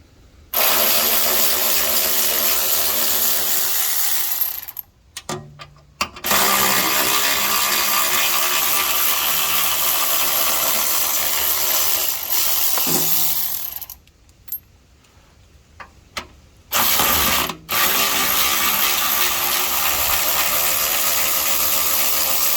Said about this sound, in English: This bracket that has a bunch of 13 millimeter bolts. So I'm gonna have to take all these out.